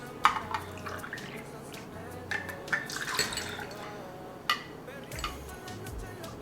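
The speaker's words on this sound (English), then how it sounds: "With ice in our cocktail shaker, I'm gonna go ahead and do the 3 ounces of blood orange juice." Blood orange juice is poured over ice into a cocktail shaker, producing a soft liquid trickle with scattered clinks and taps at moderate distance, with no talking.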